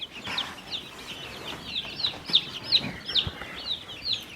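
Young laying hens cluck and murmur close by in a pen, with a run of soft, repeated clucks and short calls that come a little faster and louder toward the end.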